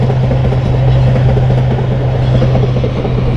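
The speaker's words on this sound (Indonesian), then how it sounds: "Kereta lewat nih." A train passing near a reservoir makes a loud, steady rumble with a low hum and a broad rushing roar, close by and continuous, with no talk over it.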